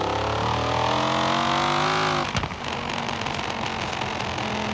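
Dodge Viper engine from the racing game Forza Horizon 4, a loud steady engine drone with rising harmonics that cuts off abruptly partway through, leaving a rougher noisy rumble.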